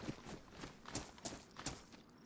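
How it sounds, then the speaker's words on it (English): Footsteps of someone running past on a road in the woods, several soft thuds in an uneven rhythm, faint and somewhat distant against a quiet outdoor background. "I heard footsteps"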